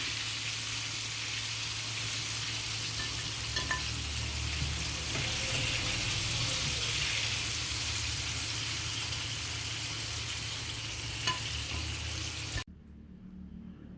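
Chicken for homemade KFC-style fried chicken crackles in hot oil with a dense, steady sizzle, close and continuous, and it cuts off abruptly near the end.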